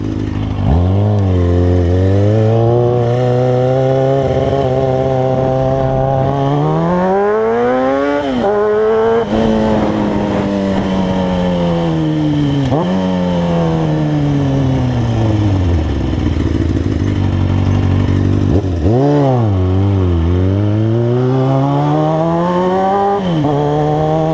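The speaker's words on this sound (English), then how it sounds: "Oh, I love that exhaust." Car exhaust revving on a town drive, loud and close, the engine climbing through repeated accelerations with pitch rising, dropping at gear changes and swelling again over a sustained roar.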